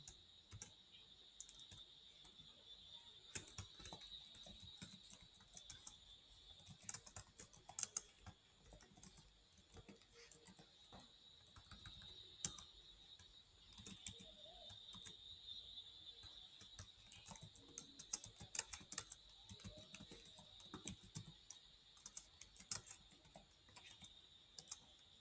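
Quiet, rapid clicking of a computer keyboard as HTML code is typed, irregular bursts of keystrokes continuing for about 25 seconds over a faint steady hum, with no voice.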